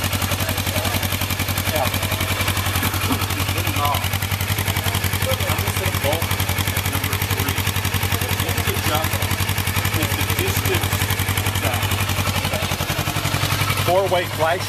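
A motorcycle engine runs at a steady, close idle throughout, its even, throbbing pulse continuous from start to end, with a voice briefly heard over it.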